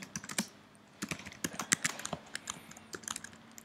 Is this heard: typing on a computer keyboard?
yes